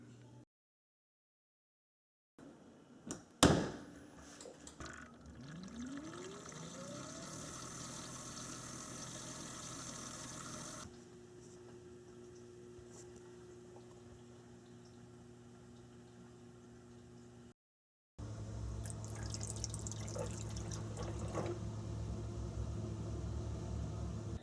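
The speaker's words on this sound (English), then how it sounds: "going to the dishwasher, and we'll do a test run just to make sure everything's working correctly, that the water is draining from the dishwasher correctly" A Bosch dishwasher runs a test cycle and drains its water. A low, steady motor and pump hum shifts in level between stages, with a brief clatter near the start and a short silent gap before a louder final stretch.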